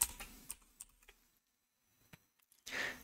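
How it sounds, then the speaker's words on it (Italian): Someone types a username on a computer keyboard, with quiet, scattered key clicks, a short pause and then a brief burst of louder noise at the end. "digitiamo il nostro nome utente"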